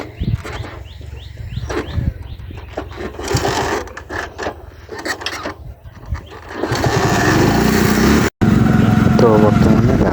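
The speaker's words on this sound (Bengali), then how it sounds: "বর্তমানে দাদার বাইকের পিছনে বসে" A small motorcycle carrying two riders, heard from the pillion seat, starts amid voices and clatter, then its engine settles into a loud, steady drone that dominates the last few seconds.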